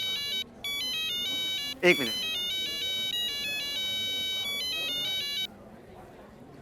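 Melodic telephone ringtone plays steadily for several seconds, briefly interrupted as someone answers, in a domestic scene from the Taarak Mehta Ka Ooltah Chashmah comedy series; someone speaks briefly over it.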